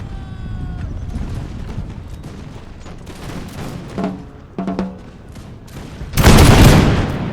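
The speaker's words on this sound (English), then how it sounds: "Before we go in the house, let's just get one volley here. We might as well get one clean volley." Musket volley in the Imperial Splendour mod, scattered crackling gunfire and distant pops building to a loud massed burst of shots near the end.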